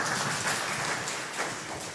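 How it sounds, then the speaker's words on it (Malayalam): Steady, moderately faint applause from a crowd at a family retreat, an even wash of many hands clapping together with no talk over it. "ഒന്ന് കൈയടിച്ച് എല്ലാവരും."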